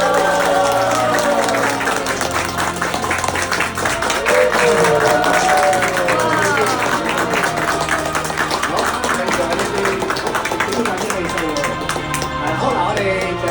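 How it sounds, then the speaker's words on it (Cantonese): Guests at a family celebration for a new grandchild clap together in sustained, dense applause, with cheering and overlapping talk throughout. "我哋掌聲停一停先啊"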